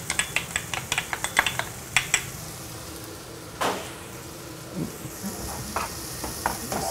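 Finely chopped garlic stirred in a pan with a spoon, giving a run of quick tapping scrapes at the start, then softer scattered scrapes over a faint sizzle.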